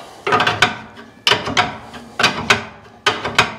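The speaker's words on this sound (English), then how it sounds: "She needs a little grease. Give her a pump." A grease gun pumps grease into a Camaro's suspension on a budget build, three bursts of ratcheting, creaking strokes with short pauses between, close and fairly loud.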